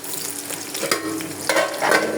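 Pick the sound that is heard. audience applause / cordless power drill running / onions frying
onions frying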